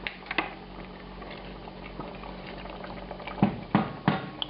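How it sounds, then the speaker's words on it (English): Port wine BBQ sauce simmers as it thickens and reduces, giving soft, close bubbling and small irregular pops, with a few louder plops near the end and no talk. "You can see that the bubbles are smaller and it's definitely thicker."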